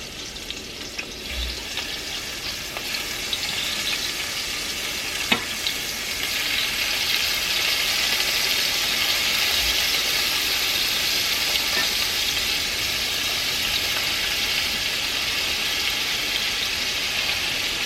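Shrimp sear in a hot pan with a continuous loud sizzle that swells after they go in, with a few faint clinks of utensils and no talking.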